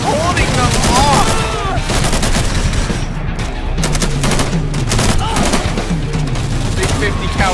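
Heavy bursts of .50 caliber machine gun fire in a zombie game, dense rapid shots across the whole span, loud and close, mixed with other battle noise and occasional voices.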